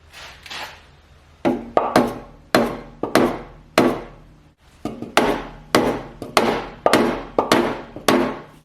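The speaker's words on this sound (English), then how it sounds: "this is going to be required to be hit with a hammer and a block of wood" Hammer driven onto a block of wood to seat a WEN keyless chuck on a WEN 15-inch #4225 drill press, a dozen or so sharp, woody thunks in an uneven rhythm with a short pause, close and loud.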